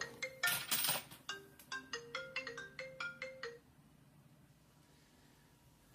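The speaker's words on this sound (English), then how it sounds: "sorry about that, guys, that was my phone here." A mobile phone ringtone plays a bright, rapid melody of repeated chiming notes for about three and a half seconds, fairly loud and close, then cuts off into quiet room tone.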